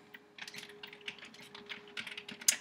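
Typing on a computer keyboard, steady close clicks of keys in uneven bursts over a faint hum, with no speech.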